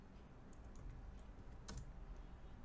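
Quiet, close typing on a computer keyboard, a short run of soft key taps over a faint background hum.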